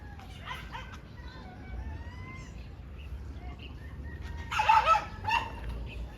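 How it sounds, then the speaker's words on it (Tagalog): A dog on a farm barks and yips in a few short bursts, louder toward the end, against a steady outdoor background with faint fowl sounds and some nearby talk. "Aso."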